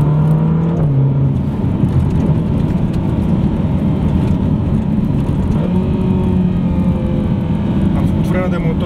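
A Ferrari California T revving hard under acceleration, a loud close engine roar climbing in pitch with road and wind noise, someone talking over it.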